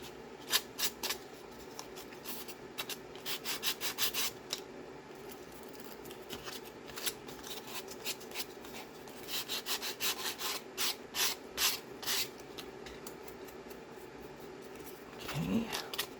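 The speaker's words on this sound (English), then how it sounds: "now go back to our sandpaper and just sand it off" Sandpaper rubs glued paper off a decoupage piece in repeated short scratchy strokes, quiet and close, with brief pauses between passes.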